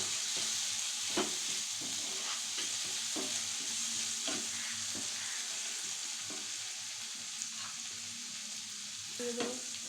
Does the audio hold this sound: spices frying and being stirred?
yes